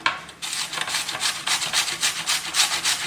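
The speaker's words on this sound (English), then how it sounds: "I'm going to put it over here on the white side and use a different grater" Celeriac root is rubbed against a hand grater in rapid, rhythmic rasping strokes, close and fairly loud, with no talk over it.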